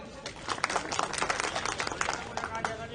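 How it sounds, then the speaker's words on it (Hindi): An audience claps together at a village farming program on composting, a dense burst of many hands that stays steady for a few seconds, with a voice talking underneath. "तो एक बार ठोको ताली फिर।"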